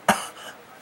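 A voice imitates a child's cough: one sharp, loud burst followed by a softer, trailing rasp, all within under a second and with no words.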